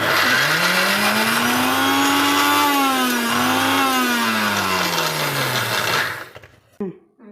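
A mixer grinder whirs loud and steady as it blends rice batter, its motor pitch rising and falling slightly before cutting off near the end, followed by a couple of faint knocks.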